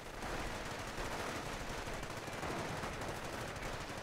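Machine gun bursts and scattered rifle fire rattle continuously through a World War II battle game match, a dense, steady wall of gunfire with no talking.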